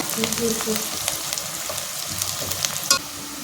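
Onions and chillies sizzle and crackle in a hot pan, a steady frying hiss with occasional sharper pops and stirring scrapes.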